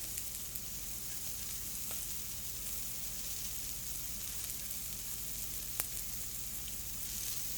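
Duck breast standing on its side in a hot pan, pan-frying with a steady, close hiss of sizzling fat that holds evenly throughout, with a couple of faint clicks and no talk.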